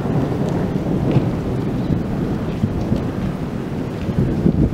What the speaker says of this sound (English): and you can hear the thunder.